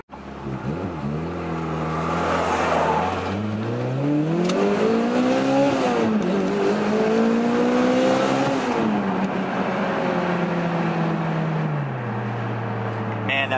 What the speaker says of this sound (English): is the blow-off valve, and the loud exhaust does mask it up a little bit